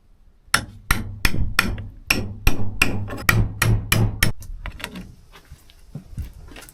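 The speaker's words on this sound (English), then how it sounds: "so that when I hit it, the cap will disintegrate and fall apart on it." A hammer strikes an express nail to break its cap while recommissioning an old shallow well pump house, a rapid series of about a dozen loud, close metallic blows that then trail off into quieter knocks.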